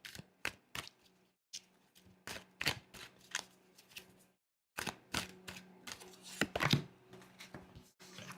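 Tarot cards being shuffled by hand, a run of crisp riffling flutters and sharp slaps in uneven bursts, close and fairly loud, with a brief pause midway.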